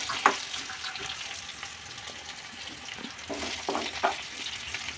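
Okra fry being stirred in a pan after a prepared paste goes in: a steady close sizzle with soft scraping stirs and a few clinks of a utensil against the pan, with no talk.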